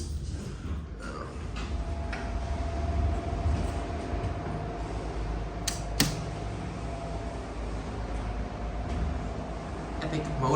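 Large Fujitec hydraulic garage elevator motor at an IKEA in East Palo Alto, California, running with a loud, continuous mechanical rumble and a faint steady tone, plus a few creaks and clunks, heard up close.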